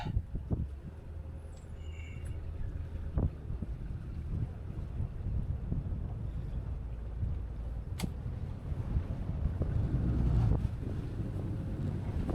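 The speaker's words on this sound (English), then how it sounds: "A little bit of wind here." Wind buffets the microphone in a low, continuous rumble aboard a Sea Ray 250 SDX outboard boat, with occasional faint knocks and creaks in the background.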